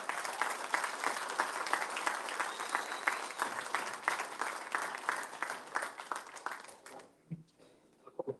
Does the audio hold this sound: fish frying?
no